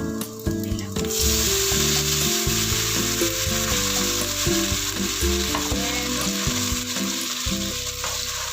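Garlic sizzles and crackles in a hot pan with a little oil, a steady bright frying hiss with stirring scrapes and clinks over it, close and continuous.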